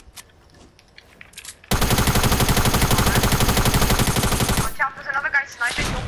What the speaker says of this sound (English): He just shot a shotgun